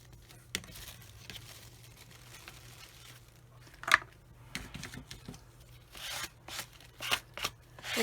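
Craft paper for a junk journal is folded by hand: scattered crinkles, creases and sharp rustling snaps, sparse at first and then clustering more densely toward the end, close and fairly quiet.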